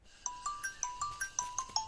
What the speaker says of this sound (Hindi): अरे रिंग जा रही है